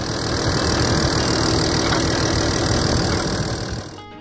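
A WD45 tractor engine idles with a loud, steady, dense rumble and vibration close by, holding even for several seconds before dropping off at the end, with no voices.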